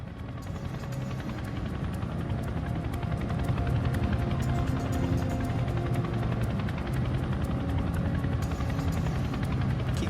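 A CH-47 Chinook helicopter flies over Scottish airspace, its twin rotors producing a dense, continuous rumbling drone with a faint rhythmic throb. The sound holds steady and fairly distant throughout.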